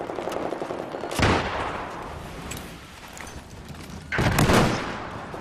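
Two sharp, loud bursts land about three seconds apart, each trailing off in a noisy wash: a flashbang grenade going off during a multiplayer match of the military shooter Squad, set against steady ambient battlefield noise.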